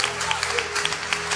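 A church congregation bursts into applause, a dense wash of many hands clapping at once, loud and close, with voices mixed in, over only a brief moment.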